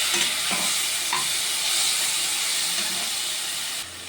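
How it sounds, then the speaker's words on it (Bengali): Taro (kochu) fries in a pan with mustard seeds and is stirred. A loud, constant sizzle and hiss runs throughout, with a few scraping stirs near the start. "সুন্দর করে ভালো ঘেঁটে না যায় সেরকমভাবে একটু ভাজা ভাজা করতে হবে"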